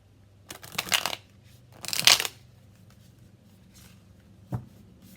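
A deck of Modern Love Tarot cards is shuffled close by in two brisk riffling bursts, followed by a single light tap of the cards; no voices.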